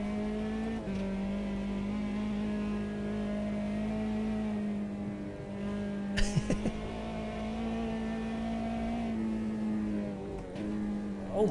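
Race car engine in the Automobilista 2 sim, a sustained droning tone at steady revs with small pitch wobbles, a few sharp clicks and knocks midway, and a quick rev rising at the very end.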